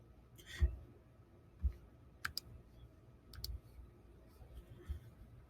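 A few sharp mouse clicks sound in a quiet room while saving an assignment set up in Google Classroom. They are spaced irregularly and there is no talking.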